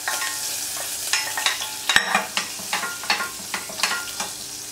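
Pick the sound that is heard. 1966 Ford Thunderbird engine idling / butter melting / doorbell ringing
butter melting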